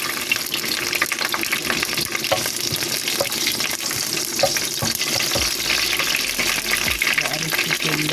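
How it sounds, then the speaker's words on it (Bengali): Whole spices such as cardamom, cinnamon and bay leaf sizzle in hot oil in a pan while being tempered for chicken keema with peas, a steady close frying crackle throughout. "এখন আমি কিমা মটরটাকে বাগার দিব"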